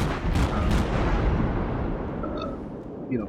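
A Cleveland cruiser in World of Warships fires its guns in a dense, rumbling barrage of overlapping booms that blur into one sustained roar before fading away.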